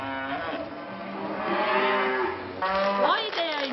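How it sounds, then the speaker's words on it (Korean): Eight-month-old calves just separated from their mothers lowing in a barn, several loud, drawn-out moos overlapping one after another, close by and insistent. "태어난 지 8개월 정도 된 송아지들인데요"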